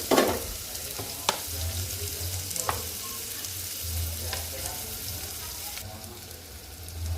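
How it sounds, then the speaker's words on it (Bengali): Onion sizzles in oil in a pan already used to fry fish, a steady close frying hiss broken by a few sharp stirring clacks. No one speaks. "পেঁয়াজটা ভেজে নিব"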